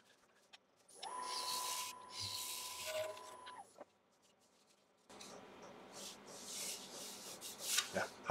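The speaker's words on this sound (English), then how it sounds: "I might actually just give that a small run of the scraper just along the bottom" A lathe scraper drawn along the bottom of a piece of turned wood gives a close hissing rub with a high whine, followed after a short pause by a rougher, irregular scraping.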